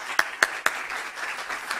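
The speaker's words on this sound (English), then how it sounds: "let's welcome Vipin with a warm hand of applause" An audience at a computer science lecture begins welcoming the speaker with three sharp, evenly spaced claps close by, followed by a softer, scattered patter of clapping that stays fairly quiet.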